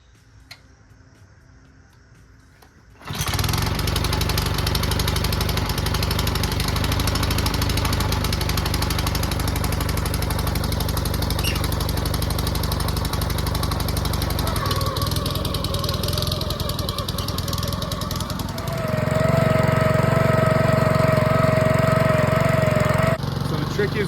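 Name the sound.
Bobcat lawn aerator running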